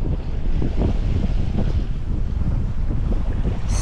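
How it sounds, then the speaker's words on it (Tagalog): Strong midday wind roars steadily across the mic while fishing, with a low rumbling wash like open water beneath it. "Kaya pala malakas na ang hangin,"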